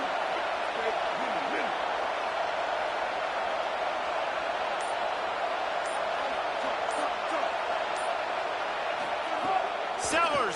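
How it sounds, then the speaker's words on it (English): Football stadium crowd roaring on third down as Washington's defense takes the field, a dense, sustained wall of cheering and noise, loud and steady, with a few faint whistles near the end. "Decibels rising as the crowd gets behind this defense on third down."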